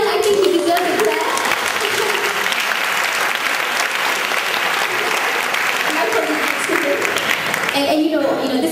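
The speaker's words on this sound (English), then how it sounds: "So everyone, I think you deserve a clap." A large audience claps loudly and continuously for several seconds in a hall, the applause swelling and then thinning near the end, with some voices heard at the edges.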